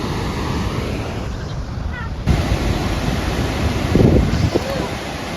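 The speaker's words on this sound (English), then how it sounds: "falls are here" Rushing water from a waterfall on an Ontario trail roars as a dense, continuous wash, with wind buffeting the microphone and a brief low rumble partway through.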